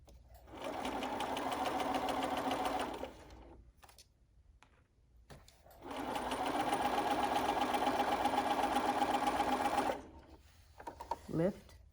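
A sewing machine stitches a fitted face mask in two long steady runs with a short stop between them, followed by a few soft clicks; a voice briefly speaks at the end.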